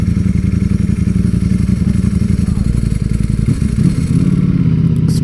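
A 2023 Ducati StreetFighter V4 SP2 motorcycle engine runs loud and close with a heavy, throbbing low rumble, holding steady before its note shifts near the end, with a voice speaking over it.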